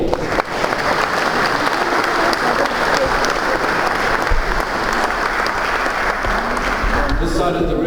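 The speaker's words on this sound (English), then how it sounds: "I'd love to hear your hands clapping again" Dense, steady applause from an audience for a choir at a stamp exhibition opening ceremony, sustained clapping filling the whole stretch with a crowd murmur beneath.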